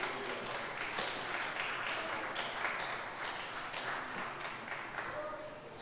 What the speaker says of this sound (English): Can we clap our hands real fast?